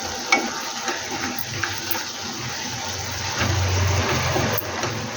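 Ginger garlic paste frying in hot oil in a pan for a curry, giving a steady close sizzle with occasional stirring scrapes and a bubbling rise toward the end.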